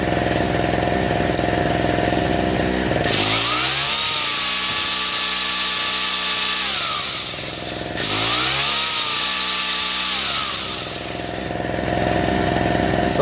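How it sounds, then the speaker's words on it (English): A Powersmart PS6108 extendable electric pole saw runs at a loud, steady whine, revving up twice in long bursts with a brief dip between them and no talking. "So here's what the pole saw sounds like."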